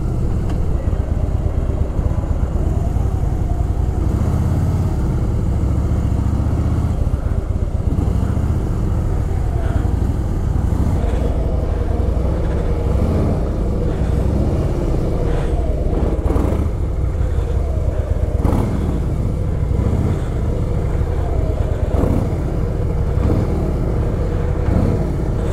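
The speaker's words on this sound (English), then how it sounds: "To be back on the motorcycle." A motorcycle cruising on the Bengaluru-Chennai highway, its mid-pitched engine droning steadily and loudly throughout, with wind rush and slight shifts in revs, nearby traffic faintly present, no talking.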